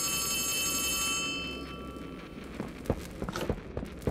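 A telephone rings in the video game Poppy Playtime Chapter 3, a bright electronic ring for about a second that then fades, followed by several footsteps and scattered knocks.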